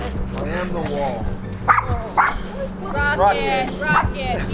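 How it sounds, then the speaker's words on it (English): Several puppies yipping, barking and whimpering close by in repeated high squeals and short yaps, with a person talking over them. "Look at all those puppies."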